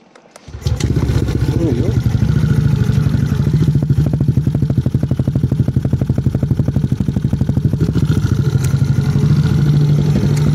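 A 2019 Yamaha Aerox V1 scooter engine starts and idles loud and close, settling into a rapid, even putter that runs steadily for about ten seconds.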